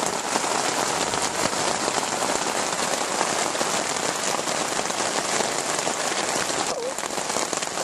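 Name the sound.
rain falling on tent while camping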